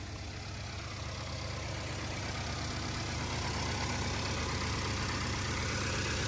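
A 2015 direct-injection car engine with 130,000 miles idles steadily and close by, with a faint rapid top-end tapping riding on top of the low hum.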